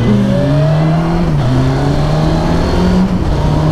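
A Honda CBR 900RR Fireblade motorcycle engine revs loudly and close by, holding a strong droning tone that steps up and down in pitch with the throttle, and no one speaks over it.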